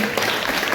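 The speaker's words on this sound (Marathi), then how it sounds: "जोरदार टाळ्या वाजवून" An audience at a Shiv Sena event for an eco-friendly Ganesh idol-making competition breaks into a short burst of dense, continuous applause.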